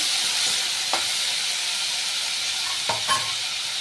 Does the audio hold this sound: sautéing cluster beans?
yes